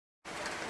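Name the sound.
rain pouring down on a baseball field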